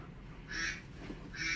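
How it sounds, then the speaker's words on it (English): Ducks quack from a video playing on a screen, two distinct nasal calls a second apart, faint and slightly distant, with a low room hum beneath. "watching the ducks from Husky Games"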